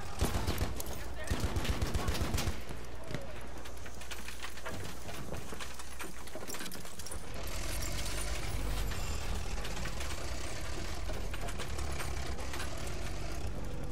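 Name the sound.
gunfire in a video game battle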